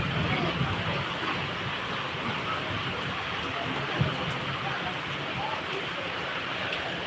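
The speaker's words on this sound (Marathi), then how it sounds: "रत्नागिरीमध्ये पाऊस पडत आहे" Quiet, steady rain pattering down in Ratnagiri, a soft continuous hiss with a faint low rumble underneath and an occasional louder drop.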